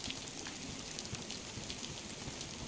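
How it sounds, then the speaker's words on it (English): Rain falling in the video game DayZ, a soft, steady hiss of drops on surfaces with faint scattered patters, quiet and continuous with no voices. "It's raining, though, so hopefully it covers the sound of the fight."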